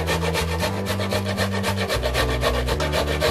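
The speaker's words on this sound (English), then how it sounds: "then we're going to grate the cassava." Cassava being finely grated by hand, close rhythmic rasping strokes repeating rapidly and evenly at a steady loud level, with no voices.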